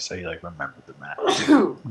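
One loud, explosive sneeze from a person, bursting out right after a stretch of casual speech, followed by a brief murmur.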